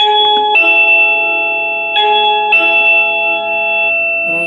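A Xiaomi smart doorbell receiver, just plugged in, plays a bright electronic chime: two clear ringing bell-like tone sequences with sustained decay, loud and close, no talking.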